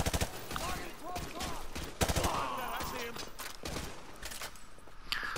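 Gunfire in the video game Modern Warfare 2 Remastered campaign comes as rapid, loud bursts of automatic and single shots, constant through the clip, with a player talking over it.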